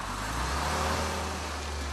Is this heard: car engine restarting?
yes